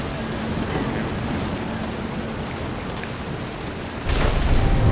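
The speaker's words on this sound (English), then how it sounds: "The thunder sounded much too close and full of angry power." Heavy rain pours steadily in the video game What Remains of Edith Finch, a dense broadband wash that swells abruptly louder near the end as a rumble of thunder rolls in.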